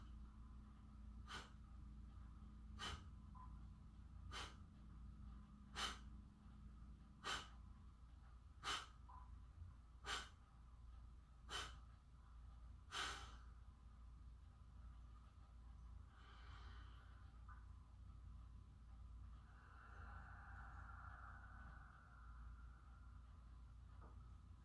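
A person does a deep breathing exercise, with about nine sharp, forceful breaths in an even rhythm, roughly one every second and a half. After them comes a quieter stretch with a softer breath or two, close but low in level.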